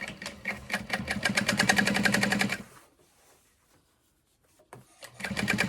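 A sewing machine rattles rapidly, stitching down the sides of folded backpack straps, in a close, loud burst that stops for a couple of seconds of near silence before starting up again.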